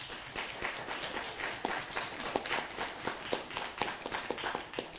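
An audience at an election panel claps steadily, a dense patter of many hands from a modest crowd, fairly quiet and even throughout.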